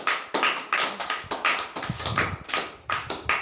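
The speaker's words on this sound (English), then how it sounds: "Clap for him now." A classroom of students claps for a classmate, with quick, uneven bursts of hand claps coming in close, loud waves and no talking over them.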